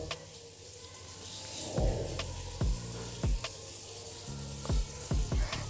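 Small cabbage pieces ground by hand on a shil-nora stone slab, rough repeated scraping strokes in an uneven rhythm, close and moderately loud, with gritty rubbing between heavier thuds and no talk.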